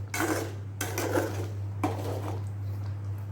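Coconut is stirred into a dish in a metal pot, giving three bursts of scraping and clattering utensil on pot over a constant low hum.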